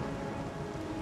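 Steady rain falls in Ori and the Will of the Wisps, a dense even hiss of drops filling the whole brief moment at constant moderate loudness with no voices.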